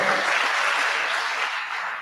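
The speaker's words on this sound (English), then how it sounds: "A round of applause, please, for Vivian." Steady audience applause at a mentorship event, an even wash of many hands clapping that holds for a couple of seconds before tapering slightly at the end.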